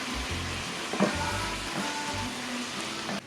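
Chicken and onions frying in a pan, with a steady broadband sizzle running throughout at moderate level and a few low thumps from stirring.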